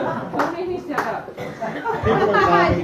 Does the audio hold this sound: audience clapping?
yes